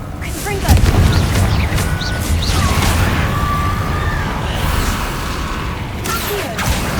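Confringo fire-blast spell bursts in Hogwarts Legacy, a sharp impact followed by a sustained roaring whoosh and rumbling debris, loud and dense game audio with a second burst near the end and no clear talking.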